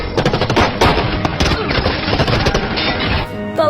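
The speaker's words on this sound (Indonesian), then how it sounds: "Tak lama kemudian Eduardo datang dan menembak para polisi itu." Dense automatic gunfire rattles in a rapid, continuous burst during a film scene in which police officers are shot, loud and close throughout.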